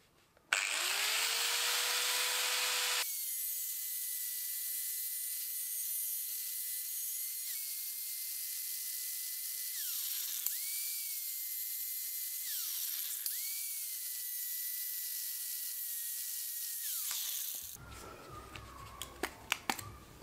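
Sheet metal repair patch for a rusted car body being cut with a high-pitched power tool, a steady whining drone that dips twice as the blade loads up, close and loud, ending in rougher clattering noise.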